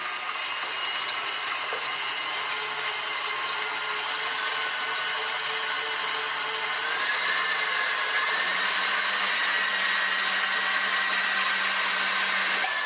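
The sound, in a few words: electric mixer whisking eggs and sugar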